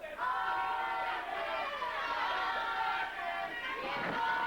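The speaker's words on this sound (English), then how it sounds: "Crowd cheering both individuals here, heavily cheering Onyx." A wrestling crowd at a 2001 NWA Wildside event in Athens, Georgia cheers and shouts in a sustained roar, with voices rising and falling throughout.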